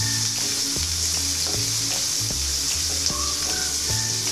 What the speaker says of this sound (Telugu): ఇవి బాగా గోల్డెన్ కలర్ వచ్చేదాకా వేయించుకోవాలండి